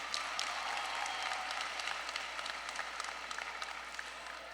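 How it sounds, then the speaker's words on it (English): Graduates of the OPHS Class of 2022 applaud themselves at their ceremony, a soft, even wash of many hands clapping from a distance that holds steady throughout, tapering slightly near the close. "Give yourselves a round of applause."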